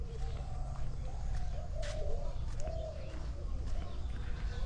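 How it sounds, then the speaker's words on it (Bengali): A dove coos in a village lane on a sunny autumn morning, soft repeated low calls over a steady outdoor rumble, with no speech. "ঘুঘু ডাকছে।"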